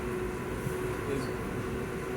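Southeastern passenger train travelling between Charing Cross and Sevenoaks, a steady interior rumble of wheels and running gear with a constant tonal hum throughout, no voices.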